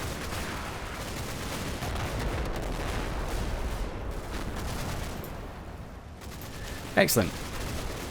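Artillery barrage in the WWII game Combat Mission: Battle for Normandy: sustained rumbling explosions and crackling fire roll on throughout, loud and dense, with a sharper burst near the end and a brief spoken word over it.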